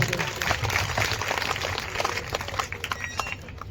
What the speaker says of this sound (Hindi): हालेलुया, जोरदार ताली बजा दे